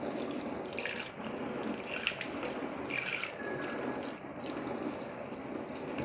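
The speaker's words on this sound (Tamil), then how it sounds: "நான் ஷிங்க் வாஷ் பண்ணுறோம் இல்லையா, நார் போட்டு தேய்ச்சி இதெல்லாம் நல்லா" Water runs steadily from a kitchen faucet into a sink being scrubbed clean with a fiber scrubber, a constant close splashing rush with faint clinks, no talking.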